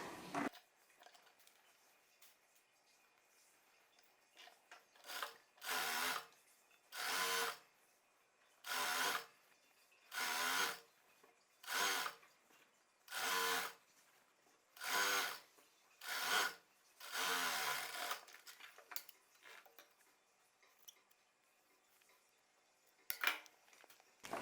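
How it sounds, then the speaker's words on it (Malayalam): Sewing machine stitching a folded hem on a petticoat, running in about a dozen loud, even bursts of a few seconds each, separated by short pauses. "ഇനി നമുക്ക് ഇതിൻ്റെ താഴെ വശം മടക്കി അടിക്കണം"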